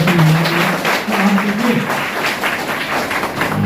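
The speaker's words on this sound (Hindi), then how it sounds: "एक बार जोरदार ताली होना चाहिए।" An audience at a training event claps steadily, a dense wash of applause with a voice heard briefly at the start.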